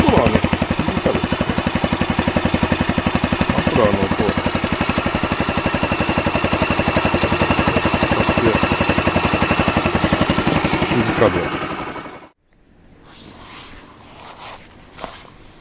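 A Tango 125 scooter engine idles close by with a rapid, even throbbing putter, then cuts off abruptly, leaving quiet background noise.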